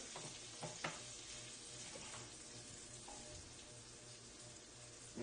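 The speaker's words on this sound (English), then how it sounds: "now I'm going to make some noise here. We're going to soften up the onions a little bit." Onions sizzling and frying steadily in butter in a pan, a constant crackling hiss with a few light clinks of stirring, no talking.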